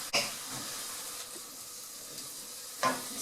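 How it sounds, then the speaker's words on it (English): Pork adobo with potatoes sizzles steadily in a pot as it is stirred, a soft continuous hiss with a couple of brief scraping knocks from the utensil. "Mix it around."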